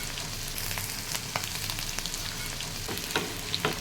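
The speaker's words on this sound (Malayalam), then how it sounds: "ഇഞ്ചി പച്ചമുളക് വെളുത്തുള്ളി ഇവയിട്ട് ഫ്രൈ ചെയ്യുക" Ginger, green chilli and garlic frying in hot sesame oil with mustard seeds and curry leaves for an apple pickle. A steady close sizzle runs throughout, with scattered sharp crackles and pops.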